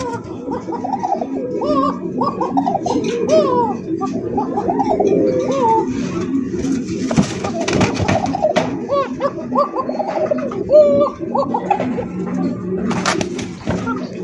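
Koka pigeons coo in a close, continuous chorus of throaty, rolling, gargling calls that overlap and rise and fall steadily, loud and near, at a pigeon market.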